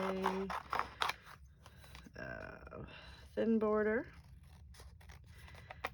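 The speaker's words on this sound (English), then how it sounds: "Just gonna hand trim this with my scissors" Scissors hand-trim paper for a mixed media craft project, giving short crisp snips and sliding cuts close up, broken by a few spoken words.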